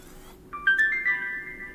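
A camera's power-on chime of a few bright tones sounds once over a faint hum, rising briefly and then fading.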